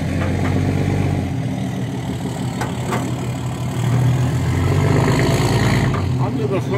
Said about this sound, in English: Rover car engine, which is exactly what they used